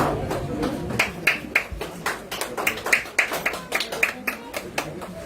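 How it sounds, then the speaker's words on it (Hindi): Clapping at a silver jubilee celebration, sharp rhythmic hand claps in a steady beat, fairly close and loud, repeating evenly across the stretch. "ढेर सारे तालियां।"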